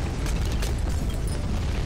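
Bomb explosions in a Bloons tower defense game: a dense, continuous roar of overlapping booms and bursts, loud and steady for the whole moment with no talk.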